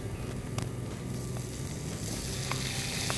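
Prawns frying on high heat with garlic, dried herbs and chilli flakes: a steady, close hiss and crackle of sizzling oil, with a few sharp ticks from stirring or tossing, and no voices.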